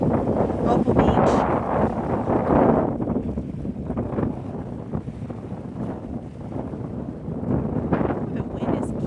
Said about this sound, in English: The wind is kicking now.